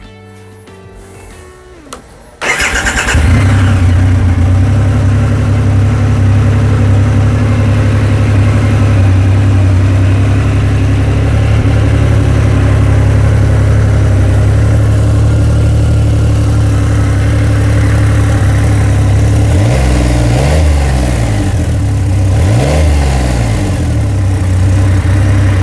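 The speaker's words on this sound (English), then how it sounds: "sounds like a very large motorcycle, which it is" A 2025 Triumph Rocket 3 GT Storm three-cylinder motorcycle engine starts after a brief quiet moment, then idles with a loud, deep, steady rumble and two short revs near the end.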